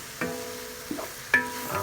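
A spoon stirs beef browning in a hot pan for papaitan, giving three or four quick scraping strokes over a soft, steady sizzle.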